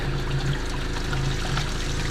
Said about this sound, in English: Here I'm going to refill my water.